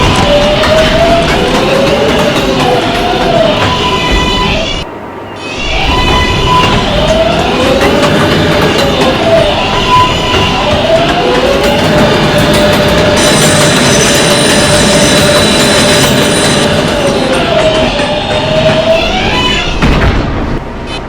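Ride aboard a Manhattan-bound R142A 6 subway train: a steady loud rumble of wheels on rail with long high squeals through curves, a short quiet gap partway, and a brighter hiss building toward the end.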